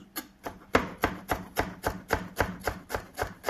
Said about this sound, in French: Vous faites des petites fines tranches